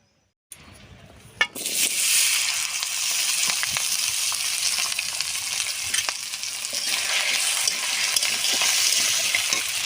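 Potatoes fry in mustard oil in a wok for a vegetarian cabbage ghonto, giving a steady, loud sizzle. It starts with a sharp burst as they hit the oil, then continues evenly with occasional faint stirring clicks and no voices.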